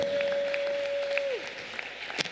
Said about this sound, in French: Ah yes, clap for Jesus.